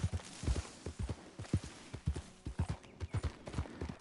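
Hooves clop in a steady walking rhythm in Red Dead Redemption 2, each hoof strike crisp and close, with a quiet background and no talking.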